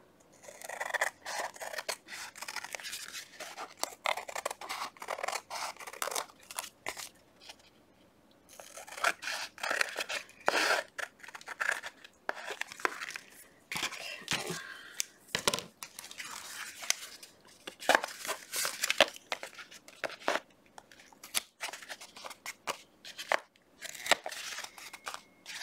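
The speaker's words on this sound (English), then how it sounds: "scissors." Scissors snip through paper for altered-book crafting, many quick close crisp cuts in irregular bursts with brief pauses and light rustling of paper between them.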